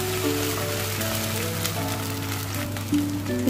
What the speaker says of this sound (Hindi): अब मैं इसमें ये अनियंस को पिंक होने तक फ्राई करूँगी।